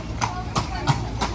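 Horse hooves clip-clop on the streets of Bruges, four evenly spaced hoofbeats close by under people talking.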